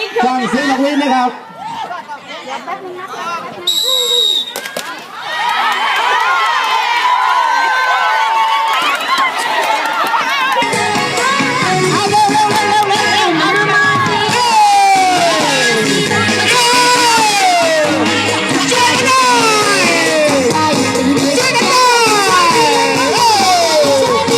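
A crowd cheers and chatters loudly at a village coconut grating contest for health volunteers, with whoops and shouts running continuously throughout and an announcer's voice heard near the start.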